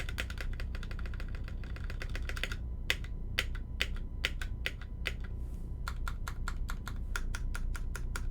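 Typing on a custom KBD75 mechanical keyboard with stabilized keys and spacebar, a fast burst of clacks followed by spaced single keystrokes, close and crisp over a low background hum.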